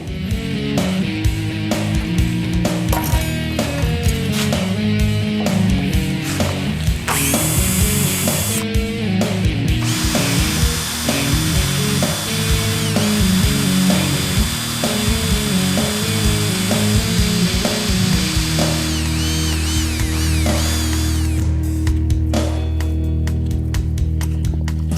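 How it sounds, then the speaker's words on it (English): A continuous, loud whine of a small power drill drilling and tapping metal, with changing pitch and grinding throughout, no talking. "And now we just have to drill and tap"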